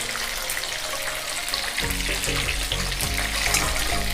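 Loud, constant crackling sizzle of Korean-style chicken deep-frying in hot oil during a second fry, a dense bubbling hiss filling the whole stretch with no voices.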